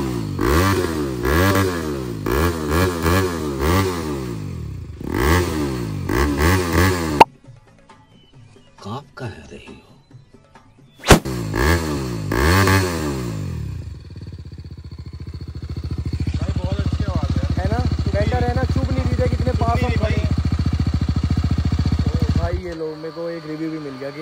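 A motorcycle fitted with a Yoshimura R77 exhaust, blipped in a series of sharp rising revs, then a pause and a longer rev settling into a steady loud idle that cuts off near the end, with someone talking.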